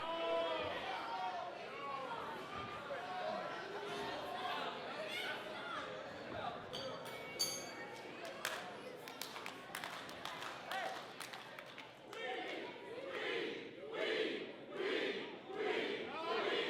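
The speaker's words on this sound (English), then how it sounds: "The crowd getting behind Remy Petit with the "we" chants." A crowd at an independent wrestling show chants "oui" in support of wrestler Remy Petit, with rhythmic, repeated crowd chants swelling in the second half over steady arena murmur.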